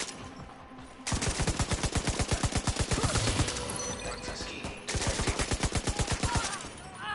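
Rapid bursts of automatic gunfire from The Division 2, loud and close, in two long volleys separated by a brief pause, with sharp repeated shots and a dense, crackling battle texture.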